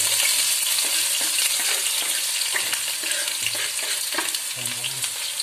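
Onions dropped into hot oil for a mixed-pulse daal fry with a steady, hissing sizzle, along with occasional stirring scrapes, close and continuous, with no voices.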